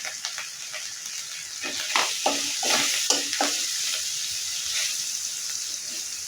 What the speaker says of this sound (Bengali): এভাবে ভালো করে মশলাটা তেলের উপরে ভেজে নিতে হবে